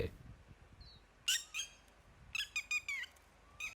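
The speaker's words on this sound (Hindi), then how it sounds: "नीड के आसपास किसी भी खतरे को भांपकर वो मादा को अपनी तीखी आवाज में सावधान करने के लिए तैनात है" Sharp, piercing alarm calls of a male red-wattled lapwing guarding a nest with eggs, given in two clustered bursts of repeated shrill notes, fairly near and clear over quiet outdoor background.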